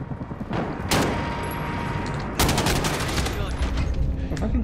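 Call of Duty Modern Warfare video game gunfire: loud, dense bursts of rapid shots and blasts, with a strong hit near the first second and a sustained volley from about halfway on, close and continuous.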